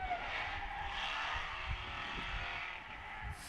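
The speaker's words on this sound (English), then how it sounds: "Sounds like a V8." Distant V8 drift car at a tire-sponsored drifting event roars steadily with a sustained tire squeal, faint and far off, with no talk over it.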